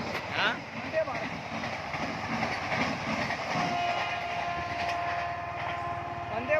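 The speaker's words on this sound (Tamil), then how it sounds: "வந்தே பாரத் ட்ரெயின் போக பாருங்க." A Vande Bharat express train rolls past with a continuous rumbling roar and faint rail clatter, steady and fairly loud throughout, with people's voices mixed in.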